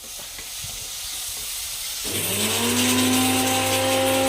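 Onions and tomato sauté in a pan with a continuous sizzle that grows louder partway through, joined by a steady humming tone in the background.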